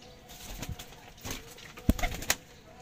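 Pigeons of a fancy breed with pearl-like spots flutter and shuffle nearby, with a few soft coos and wing flaps amid light background noise.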